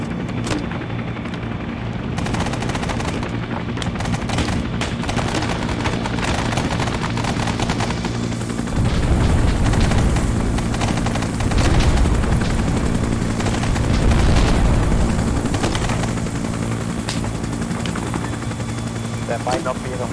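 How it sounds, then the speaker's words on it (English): Huey Slick helicopter rotor thumping steadily at a hot landing zone in Arma 3 SOG: Prairie Fire, with bursts of gunfire and heavier booms cutting in, loud and continuous, voices speaking over it. "There will be exactly enough room on the bird to get you out on this Huey Slick."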